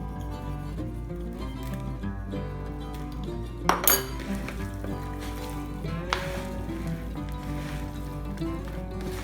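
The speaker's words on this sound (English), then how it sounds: "I coated them with the olive oil, mixed them up, spread that around, make sure all the surfaces are covered" Chicken wings being tossed with olive oil in a bowl give occasional clinks and knocks of the bowl over a steady low hum, with one louder clatter near the middle.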